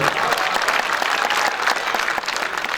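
Steady, dense applause from an audience at a mushaira poetry gathering, continuous and fairly loud throughout, with no talk over it.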